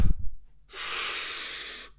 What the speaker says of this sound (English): If you increase and emphasize and lengthen the inhale